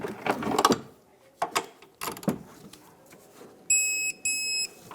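A torque wrench tightens a rear shock absorber bolt on a 2013-2018 Hyundai Santa Fe: bursts of close ratcheting clicks, then two steady electronic beeps as the set torque is reached.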